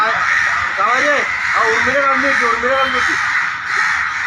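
Crows attacking people caw loudly and repeatedly nearby, several harsh calls in quick succession over a steady background hiss, with voices around them.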